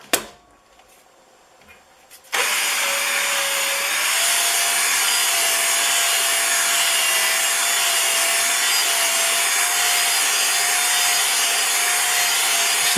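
After a brief quiet start, a drill whirs up and 220 grit sandpaper rubs steadily against a spinning carriage head bolt, a loud, continuous abrasive hiss close by.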